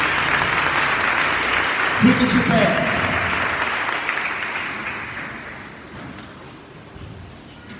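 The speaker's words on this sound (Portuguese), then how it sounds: "Aplauda o Senhor com força." A church congregation applauds the Lord at a Portuguese-language service in Palmácia, Brazil, with loud dense clapping that slowly fades as someone speaks briefly over it.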